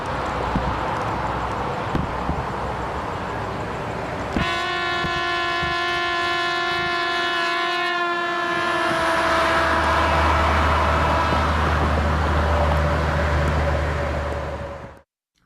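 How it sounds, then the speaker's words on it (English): A trumpet held on a car passing along a road sounds one sustained, constant note, heard from the roadside as the pitch drops with the Doppler shift while the car goes by, over the rushing road noise of the car, before the sound cuts out abruptly. "let's hear the constant pitch emitted by the trumpet together with the Doppler shift heard"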